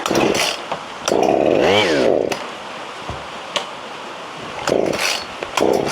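A chainsaw fitted with an aftermarket carburetor and left on choke sputters and revs in uneven, loud bursts close by, bogging and rising again, with a voice briefly heard between revs.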